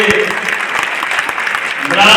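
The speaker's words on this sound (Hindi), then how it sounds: "जोरदार तालियां बजा करके" Audience applause at a political rally in Tohana, a dense wash of clapping held steady throughout and swelling slightly at the end.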